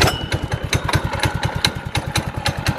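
A small gas engine swapped into a Power Wheels Mustang toy car runs at a steady idle, chugging in a fast, even rhythm of low thumps with a rattly top end, loud and close.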